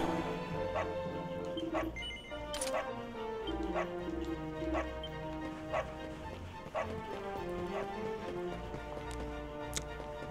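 A dog barks repeatedly in Dragon Quest XI, with sharp, evenly spaced yaps and occasional whimpers over steady orchestral game music and a faint clip-clop of hooves.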